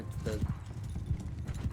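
Armored horse hooves clip-clopping in the samurai video game Shokuho, with brief neighs mixed into battle noise and someone talking over the steady hoofbeats.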